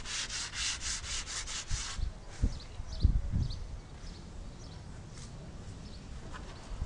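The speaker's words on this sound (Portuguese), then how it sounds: "Tá lixando a parede, olha lá, vocês estão vendo lá, tá lixando." Sandpaper rubbing over a wall before painting, quick rhythmic scraping strokes at first, then a few knocks and thuds, with quieter scattered rubbing afterward.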